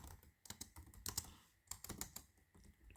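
Code being typed on a computer keyboard, a close run of quick, uneven key clicks in short bursts with brief pauses, alone without any voice.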